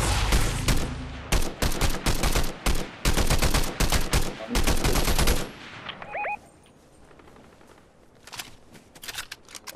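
Rapid automatic gunfire from players shooting in the video game Fortnite rattles in loud, dense bursts for several seconds, then gives way to scattered fainter shots and a brief two-tone chime, with no talking.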